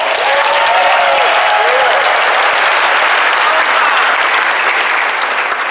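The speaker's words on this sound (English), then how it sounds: "we should give David and Shannon a round of applause" Loud, dense applause from an election night crowd of Democrats in Shelby County, sustained and even throughout, with a few shouts rising over the clapping.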